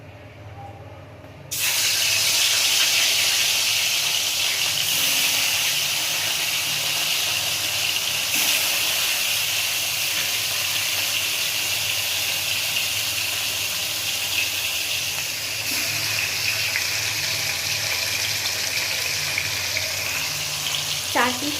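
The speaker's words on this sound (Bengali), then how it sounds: "তেল গরম হয়ে গেছে এবার মাছটাকে ভেজে নেব" Whole fish frying in hot oil for a Bengali home meal, a loud steady sizzle and hiss that begins abruptly and keeps going at an even level, with a faint voice now and then behind it.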